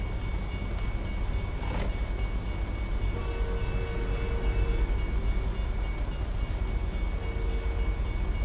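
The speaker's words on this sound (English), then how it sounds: "I hear a train, see a train." A train passes in American Truck Simulator somewhere in Oklahoma, a loud continuous rumble with a sustained horn tone and faint rhythmic clatter, no voices.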